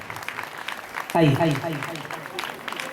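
Audience at a religious ceremony in Ellora, Maharashtra breaks into applause, a loud burst of clapping rising over a speaker's voice, which continues talking through and after it.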